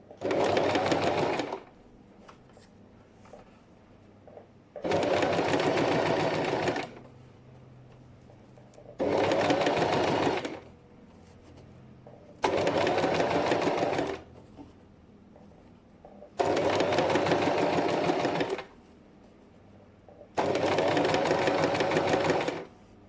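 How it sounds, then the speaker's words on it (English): A sewing machine stitches fabric binding in six evenly spaced bursts of about two seconds each, loud and close, with quiet pauses between runs. "Remember to do reverse stitch as well, and then keep sewing."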